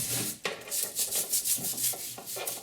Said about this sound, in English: So I'm going to scrub off this mud.